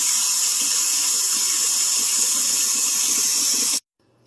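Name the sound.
filling glass carboy with water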